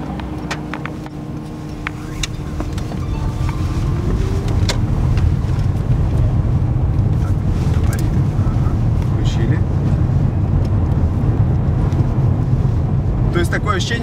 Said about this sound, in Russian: кроме шума колеса, практически ничего не слышно